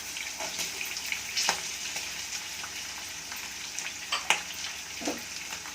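Onion pieces frying in a pan for lemon rice, a steady sizzle with a few sharper crackles and stirring scrapes, close and fairly quiet, no talking.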